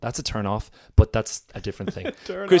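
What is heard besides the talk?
None of the usual background noises is heard.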